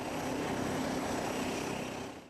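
Kenya Air Force planes run their engines at Laikipia Air Base ahead of takeoff, a dense continuous propeller-engine roar, loud and steady throughout before fading out at the end.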